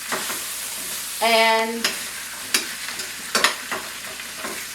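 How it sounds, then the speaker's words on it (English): Onions fry in butter in a pan while being stirred, a steady sizzle broken by scraping stirs and utensil clicks, with a brief word spoken over it. "I'm just going to stir them all together, making sure that they get coated with the butter"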